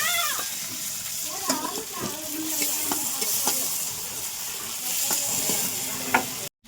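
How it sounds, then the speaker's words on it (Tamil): Onions and tomatoes for a fish curry sauté in a pan with a continuous close sizzle. Scraping stirs and light clatter run through it, a faint voice or other background sound can be heard, and the sound stops abruptly at the end. "வெங்காயம் வந்து நல்லா வதங்கிட்டு இருக்குது."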